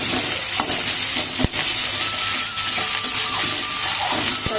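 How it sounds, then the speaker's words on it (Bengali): Chopped onions and green chillies fry for a vegetable momo filling, giving a loud, close, continuous sizzle with occasional stirring scrapes and no voices. "তারপরে আমি দিয়ে দেবো এই পেঁয়াজ কোচানো আর লঙ্কা কোচানো, এগুলো ভালো করে আর একটু ভাজা হোক"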